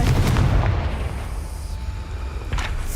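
A Confringo spell explodes in the video game Hogwarts Legacy with a loud, booming blast and rumbling tail, then a second burst cracks out a couple of seconds later.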